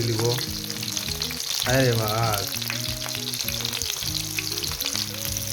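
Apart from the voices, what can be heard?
fish frying in hot oil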